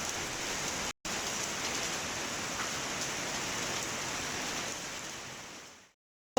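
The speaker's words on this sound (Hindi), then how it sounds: "बहुत तेज़ बारिश लगी हुई है अल्हम्दुलिल्लाह।" Heavy rain in Islamabad pours in a dense, constant hiss, briefly cutting out once near the start and fading away at the end.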